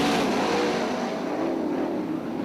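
A field of 360 sprint cars roars off at the start of a race at a dirt speedway, a loud, continuous engine blare that holds steady as the pack accelerates into the first turns.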